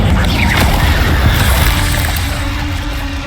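Incendio fire spell cast in Hogwarts Legacy, a loud, dense whooshing blast with a deep rumbling boom that fills the whole moment and tapers slightly at the end, with no talking.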